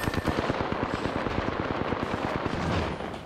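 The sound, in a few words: gunfire in Apex Legends video game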